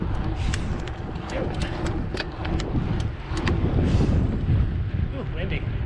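Heavy wind buffets the microphone in low rumbling gusts at a skate park in Prince George, BC, with scattered sharp clicks and knocks, and a voice speaks briefly under the roar.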